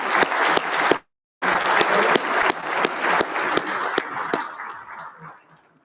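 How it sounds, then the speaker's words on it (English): Audience applause at a military logistics awards dinner: loud, steady clapping from a large room that stops sharply for a moment, resumes, then gradually fades out. "Round of applause for Commander Warren."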